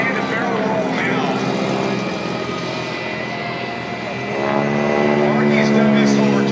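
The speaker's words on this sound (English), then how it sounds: "As the aircraft goes through a loop, conventional loop." A biplane flying a conventional loop at the Planes of Fame air show in 2013, its propeller engine droning steadily and then swelling louder as it comes around, with an announcer talking over it.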